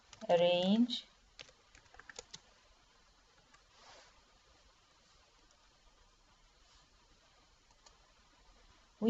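Typing on a computer keyboard while working in PowerPoint, a spoken phrase at the start, then sparse, faint key clicks scattered across the quiet.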